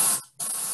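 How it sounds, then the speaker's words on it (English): Steady broadband white-noise hiss from a synthesizer, loud and bright, cutting out briefly for a short gap before resuming at an even level. "And then you've got what's called white noise, which you can see on here."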